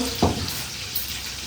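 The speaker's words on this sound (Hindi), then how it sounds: "और अभी चिकन चिकन फ्राई" Chicken sizzling and frying in a pan, a steady loud hiss with one brief stirring clatter near the start, heard close up without talk.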